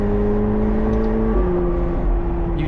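A McLaren 750S sports car engine, not fully warmed up, revs loudly and steadily up close, its droning tone shifting pitch partway through.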